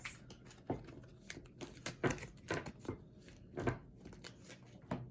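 Tarot cards are shuffled by hand in a quiet room, giving a run of soft, irregular riffling slaps and flicks, close and faint, with no voice over them.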